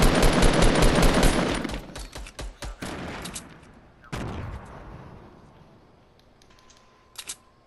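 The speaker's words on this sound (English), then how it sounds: "Shoot the fucking tree." Rapid automatic gunfire in a video game is aimed at a tree. Dense, loud bursts give way to scattered single shots, then another loud blast and a short final burst.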